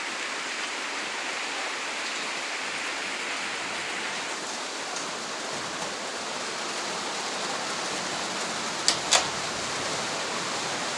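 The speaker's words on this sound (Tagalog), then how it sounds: "Grabe, lumakas ng ulan." Heavy rain pours down steadily as a continuous broadband wash, loud and even throughout, with a couple of brief sharp knocks near the end and no talking.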